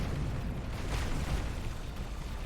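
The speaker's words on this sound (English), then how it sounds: "This is going to blow up fairly rapidly." A ship exploding in a space battle video game, a sustained, loud, rolling roar of blasts and deep rumble that fills the whole stretch with no clear break and no voices.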